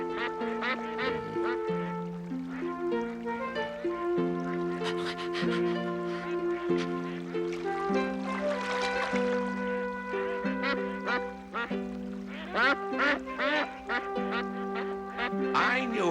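Cartoon geese honk and quack in a busy, overlapping flock chorus, with steady calls layered throughout at moderate loudness.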